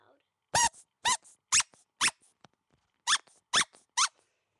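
A Squishy Mushy DJ Quack squeak toy is squeezed close up, giving seven sharp, loud squeaks in two quick groups with short pauses between them.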